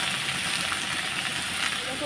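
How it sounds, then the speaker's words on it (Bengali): A steady, dense sizzle of potatoes frying in hot oil in a pan, even and unbroken throughout. "আর এটা আলু ভাজা বসিয়ে দিলাম তাড়াতাড়ি করে"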